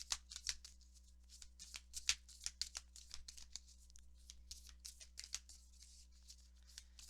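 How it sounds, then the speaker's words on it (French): Oracle cards shuffled and handled for a three-choice reading, a steady run of soft riffling flicks and slaps repeating throughout, fairly quiet and close, with no talking over them. "Et on va aller chercher maintenant une carte pour votre lien."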